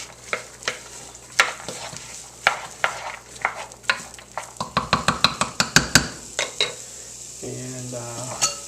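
Ingredients stirred through oil in a pan, with repeated spoon taps and scrapes against the metal that quicken into a fast rhythmic run, over a faint sizzle, close and clear.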